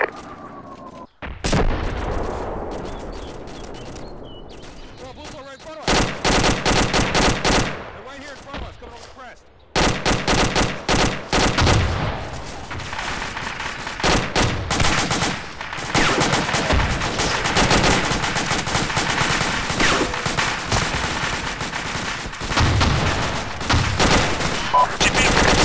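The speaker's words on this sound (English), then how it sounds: "We're taking MMG fire." Medium machine gun fire in a military shooter game, loud close bursts of rapid automatic shots, long sustained volleys broken by brief pauses, with other gunfire and occasional voices mixed in.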